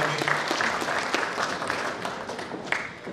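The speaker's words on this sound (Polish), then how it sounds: "Brawa dla wyznaczonych." Applause for honored blood donors at a Polish Red Cross anniversary ceremony in Brodnica, a moderate crowd clapping steadily in an indoor hall, with a few sharper individual claps standing out.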